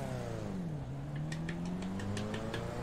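A car pulls away from rest under throttle as the clutch is released during a track driving session, its engine note climbing in steady harmonic sweeps, loud and close, with faint rhythmic ticks above and no talk.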